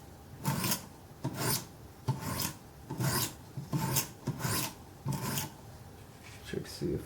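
S30V steel knife blade sharpened on a Wicked Edge guided sharpening system, giving about ten evenly spaced raspy scraping strokes, close and fairly loud, with no talking.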